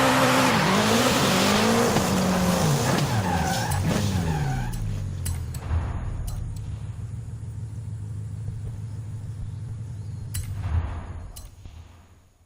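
First- and seventh-generation Volkswagen Golf cars race in Forza Horizon 5, loud engines revving hard with rising and falling pitch and tires squealing, then easing into a steady rumbling idle before a brief final screech.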